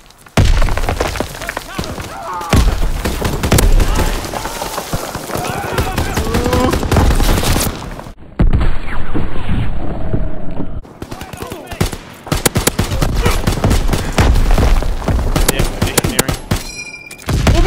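Sustained bursts of grease gun submachine-gun fire in a Call of Duty WWII team deathmatch on a tiny map, rapid automatic rattles with a brief lull mid-way, loud and close, mixed with other game effects.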